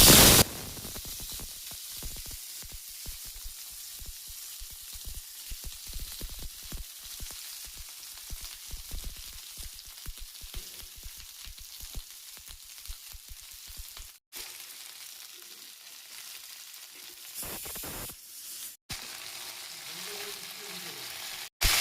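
Winter vegetables frying lightly in oil in a pot for dal, giving a steady, soft hiss of sizzling that continues evenly with a few brief dropouts.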